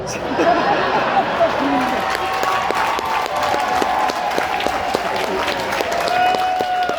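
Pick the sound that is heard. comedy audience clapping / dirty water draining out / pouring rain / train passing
comedy audience clapping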